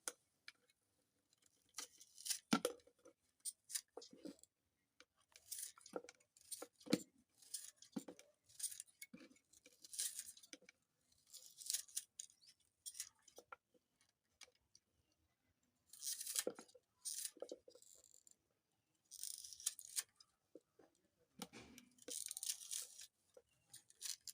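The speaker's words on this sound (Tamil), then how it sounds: "வெங்காயத்தை அறிகிறேன்" Onions being chopped with a knife for a broad-bean stir-fry, a series of quiet, irregular bursts of cutting taps and scraping on a board, separated by short pauses, close and fairly faint.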